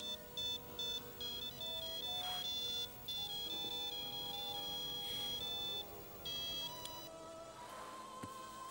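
A mobile phone ringtone plays a bright repeating electronic melody, steady and fairly loud, in an indoor domestic scene from an Egyptian TV drama.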